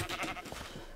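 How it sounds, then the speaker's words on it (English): A Minecraft sheep bleats once, a short, wavering baa, quiet and alone. "That is the sheep."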